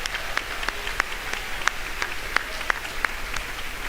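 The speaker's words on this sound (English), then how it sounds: "How about a final round of applause?" An audience at a high school graduation ceremony applauds in a steady, moderately loud patter of many hands, with a few sharper individual claps standing out.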